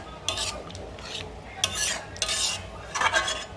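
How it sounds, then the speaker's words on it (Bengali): A spoon stirring water into chicken curry in a pan, a few scraping, swishing strokes in uneven bursts, close and clear with no talk. "ভালো করে মিশিয়ে নিচ্ছি পানিটাকে"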